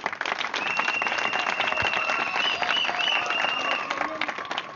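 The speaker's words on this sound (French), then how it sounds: "je souhaite qu'on applaudisse à nouveau très fort." Wedding guests at a ceremony where one man marries four women break into sustained applause, a dense steady clapping that fills the space, with a faint tonal sound running underneath.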